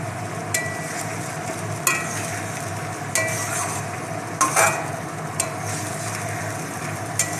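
Potatoes frying in oil in a home kitchen pan, a steady low sizzle throughout with several sharp clinks and scrapes of a stirring utensil against the pan at irregular intervals, close by with no talking.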